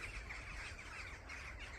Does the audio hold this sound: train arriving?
no